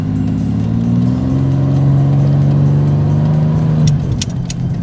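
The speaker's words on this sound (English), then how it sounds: "Engine still runs strong even after all the shit I put it through." A pickup truck with more than 203,000 miles idles and revs nearby, its engine giving a steady, loud drone that rises slightly in pitch before easing off, with no one talking.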